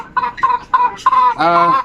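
Native RTL Zampen chickens give a short run of four or five close, loud clucks, the last one drawn out into a longer call.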